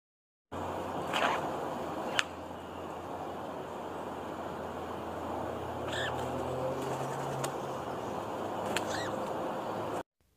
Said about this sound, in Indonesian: Lalu datanglah burung-burung memakannya sampai habis.